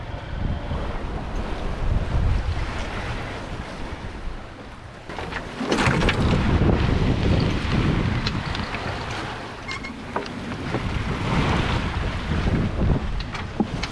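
Aboard a sailboat at sea, a steady wash of waves and water against the hull with strong wind buffeting the microphone, rising in gusts partway through, no talking.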